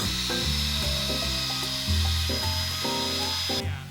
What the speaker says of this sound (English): then uses a machine to make holes for the hinges